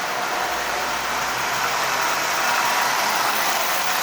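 A Marx 6000 toy train, fitted with a transplanted motor, runs steadily with a continuous whirring hum and airy rattle at a constant level, no voices heard.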